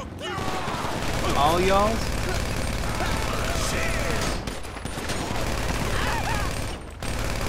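Gunfire in the online game GTA 5, rapid bursts and scattered shots crackling through a busy scene, with people talking over it throughout.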